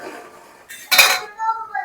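A knife is poked into cooked food in a metal pot to test doneness, giving a brief scrape and clink of metal against the pot, close and fairly loud, with faint clatter afterward.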